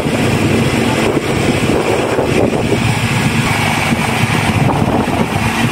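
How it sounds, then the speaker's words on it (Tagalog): Strong wind roars at sea around a work boat during a passenger transfer, a loud, constant buffeting rush mixed with engine drone. "Grabe guys, lakas ng hangin guys"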